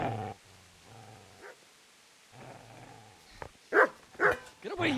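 Dog growling and barking in Kingdom Come: Deliverance, a low rumbling growl followed by several sharp, loud barks toward the end, close by amid quiet game ambience.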